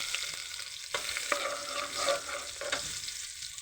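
Garlic sautéing in a pan as the base for a Filipino mung bean stew, heard as a continuous close sizzle broken by several sharp scrapes and knocks of a utensil stirring against the pan.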